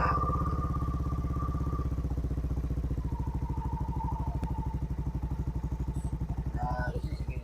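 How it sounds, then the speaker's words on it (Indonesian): A Yamaha scooter engine idles too fast, a close, rapid steady putter with firm even pulses that ease slightly toward the end, while a faint tone rises and falls in the background. "RPM-nya kegedean dia."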